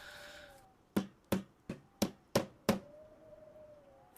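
Hammer blows while unbarricading in the Project Zomboid video game, six sharp evenly spaced strikes in quick succession, close and clear over faint ambient tones.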